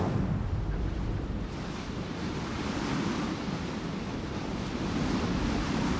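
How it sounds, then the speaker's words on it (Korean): Strong wind blows across a house construction site on Jeju Island, a continuous deep roar with heavy buffeting on the microphone that holds steady throughout, with no voices. "거센 바람이 불어닥치는 제주특별자치도"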